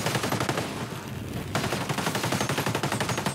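Sustained automatic gunfire in the tactical shooter Ghost Recon Breakpoint, a rapid, loud, continuous rattle that pauses briefly midway and then resumes at full intensity.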